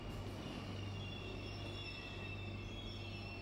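A train travelling between New South Wales and Victoria rumbles steadily, with continuous wheel-on-rail noise and faint high squeal tones, close and unbroken throughout with no talking.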